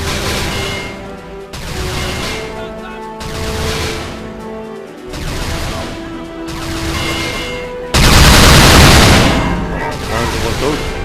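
Bursts of gunfire and crashing impacts from the video game Red Ocean, with a louder explosive burst near the end, mixed with game sounds and a speaking voice.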